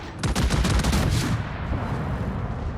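Battleship Amagi fires a heavy gun salvo in a naval combat video game: a burst of loud, overlapping booming shots in quick succession, then a long rumbling decay.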